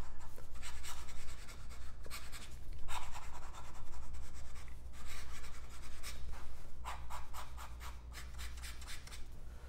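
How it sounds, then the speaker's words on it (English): A Scribo Feel flex nib fountain pen writes fast on paper, making repeated bursts of scratchy rasping strokes with short pauses between them, close and fairly loud. "Do fast writing."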